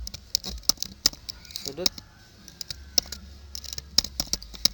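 Typing on a computer keyboard: scattered soft key clicks tapping in an uneven rhythm at close range, with a voice speaking between the keystrokes.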